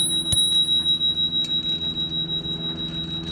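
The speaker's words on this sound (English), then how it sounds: "half the people do understand what a bike bell is" A bicycle bell rings once, sharp and bright, then its metallic tone lingers and fades over a steady rolling hum of a bike on the road.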